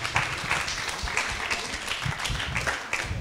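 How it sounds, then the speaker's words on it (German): Audience at a conference camp welcome session applauding, a sustained crackle of many hands clapping with uneven peaks, close and lively, heard on its own without speech. "Beifall"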